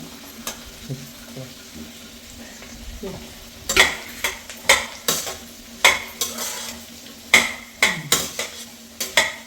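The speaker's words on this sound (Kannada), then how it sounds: "ಇವಾಗ ಹಚ್ಚಿಟ್ಕೊಂಡಿರ್ತಕ್ಕಂಥ ಬೆಂಡೆಕಾಯಿನ ಹಾಕ್ತಾಯಿದ್ದೀನಿ" Chopped okra fries in a pan with onions, a soft sizzle under loud, sharp scrapes and clinks of a spoon against the pan that come in a quick irregular series, with faint household sounds in the background.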